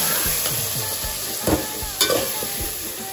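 Chopped vegetables stirred into a hot pan of tempered masala sizzle steadily, with scraping stirs of a utensil through the veg and a couple of sharper clanks, close and alone.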